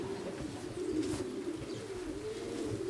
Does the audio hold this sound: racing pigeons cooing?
yes